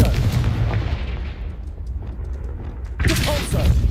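Confringo spell blast in Hogwarts Legacy, a loud booming burst that rumbles and fades, then a second sharp blast hits near the end.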